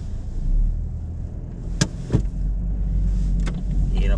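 A car rolls along a snowy, slippery road in England, a low steady engine and tire rumble filling the cabin, with a few brief sharp clicks or thumps over it and no talking.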